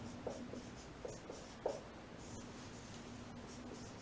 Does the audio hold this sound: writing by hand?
yes